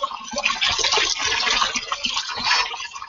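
Water is poured during a spiritual blessing ritual, giving a steady, close splashing and trickling rush that runs without a break and stays fairly loud throughout.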